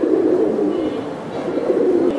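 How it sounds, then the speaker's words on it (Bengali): Giribaz high flyer pigeons coo in a steady, continuous chorus of low, throaty rolling calls, close and fairly loud, with no talk over them. "একদম সেই লেভেলের কবুতর।"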